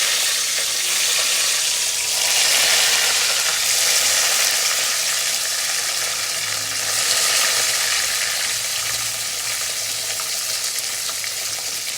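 Small cut brinjal pieces hiss in smoking-hot mustard oil, a loud, dense sizzle that swells and eases in waves with occasional stirring, close up and without talk.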